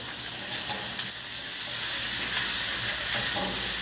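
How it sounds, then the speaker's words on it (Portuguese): Chopped onion, bell peppers and carrots sizzle in a pan with oil, a steady crackling hiss heard up close and alone, with no talking. "E aqui a gente vai fritando tudo."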